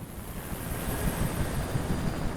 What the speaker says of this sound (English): Didn't take him long to bring in a chopper.